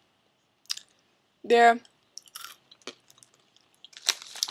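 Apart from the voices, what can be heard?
chewing crunchy popped corn kernel snacks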